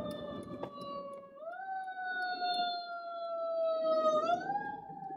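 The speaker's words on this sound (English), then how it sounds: "Here comes the ambulance, John." An approaching ambulance siren wails in long rising and falling sweeps, loud and steady over faint background noise, with no talk.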